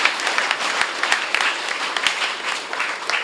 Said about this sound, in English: Give her a thunderous applause.